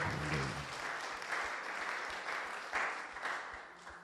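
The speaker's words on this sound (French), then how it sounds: "let's give the Lord a clap" A church congregation applauds to praise the Lord during a bilingual English-French service, with steady, fairly loud clapping for about four seconds and a few voices mixed in.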